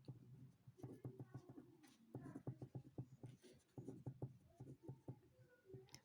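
A pen writes a biology heading on paper in a rapid run of close, scratchy strokes and taps, steady and fairly quiet, with short pauses between words.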